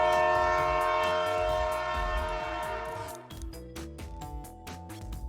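A train runs past with its horn sounding, a loud sustained blast over rhythmic rail clatter that gives way to lighter wheel knocks as the horn fades, with no voices.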